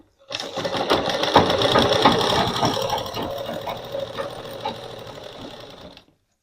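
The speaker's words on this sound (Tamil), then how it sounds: "ரெண்டு தையல் போட்டுக்கோங்க, பிரியாமல் இருக்கும்." A sewing machine runs steadily for about six seconds, stitching together frill pillow cover pieces, its fast motor whir close and continuous before stopping abruptly.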